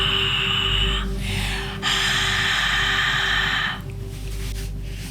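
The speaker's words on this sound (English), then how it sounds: "breathe into your hand just like that. Like you're trying to fog up the mirror" Breath pushed forcefully from an open mouth into a cupped hand, as if fogging a mirror: two long, loud, hissing exhales close to the mic, separated by a short pause.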